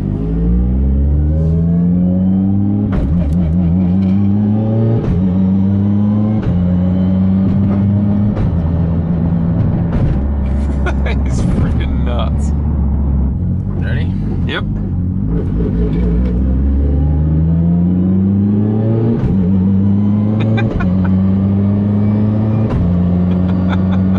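A Mitsubishi Evo 10 street car accelerating through the gears, its engine note climbing, dropping at each shift and climbing again. The engine is loud and close, with a busy stretch of mid-run clatter.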